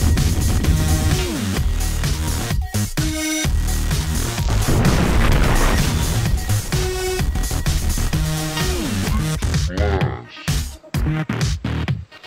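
A cob gun blasts rounds of cob for earthen building, heard as a series of loud booming thumps in quick succession with music playing throughout.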